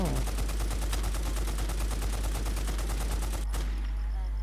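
Rapid automatic gunfire rattles out in WarZ, a survival shooter game, as a dense, loud, continuous burst that cuts off abruptly near the end, followed by a quieter lingering tail.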